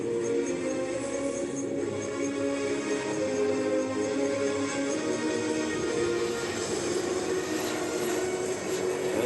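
A model jet aircraft at an air show makes a continuous loud turbine whine and roar as it passes, steady throughout with a slight rise near the end.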